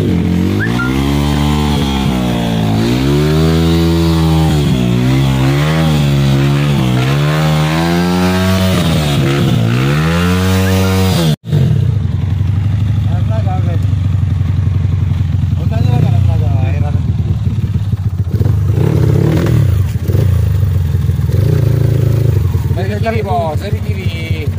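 An enduro motorcycle engine on a steep climb, loud and close with wavering revs that rise and fall, briefly cut off once, then a rougher sustained drone, with voices shouting around it.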